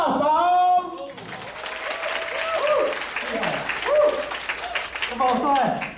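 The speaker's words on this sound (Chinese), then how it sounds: "我们掌声欢迎杨大宝。" Audience applause welcoming magician Yang Dabao on stage, a dense, sustained clapping from a crowd lasting several seconds, with a voice speaking over it at the start.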